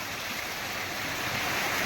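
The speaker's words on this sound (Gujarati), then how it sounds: "આ વરસાદ પાછો આવ્યો એ પવન સાથે આવ્યો" Wind-driven rain sweeps over farmland, a loud, continuous broadband rush that swells slightly toward the end.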